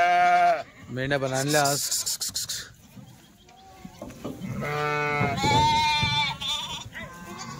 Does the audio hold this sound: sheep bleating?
yes